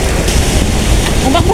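Big ocean waves surge and crash in strong wind on a fishing trip, a loud, continuous rumbling roar of surf with heavy wind buffeting the microphone throughout.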